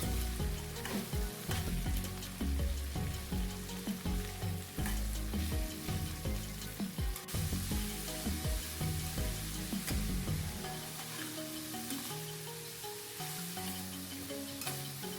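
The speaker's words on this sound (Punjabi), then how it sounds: "ਇਹਨਾਂ ਨੂੰ ਆਪਾਂ ਚੰਗੀ ਤਰ੍ਹਾਂ ਮਿਕਸ ਕਰਕੇ ਇਹਨਾਂ ਨੂੰ ਬਰਾਊਨ ਕਰ ਲਾਂਗੇ ਪਿਆਜ਼ ਨੂੰ ਚੰਗੀ ਤਰ੍ਹਾਂ ਭੁੰਨਾਂਗੇ ਆਪਾਂ" Sliced onions for baingan bharta sizzle loudly in hot oil as they are stirred, a dense, continuous frying hiss broken by scraping strokes of a spoon, heard close up with no voices.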